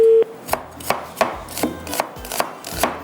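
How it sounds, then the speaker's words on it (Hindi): Onion chopped finely with a knife on a board, a run of about eight crisp knocks at a brisk, slightly uneven rhythm, close and clear, with no talking. "इसको हम बारीक बारीक कटिंग कर लेते हैं, इसको थोड़ा सा चॉप कर लीजिएगा"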